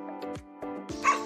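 A dog barks close by in a few sharp yaps and whimpering bursts, loud against a steady background hum, with no talk.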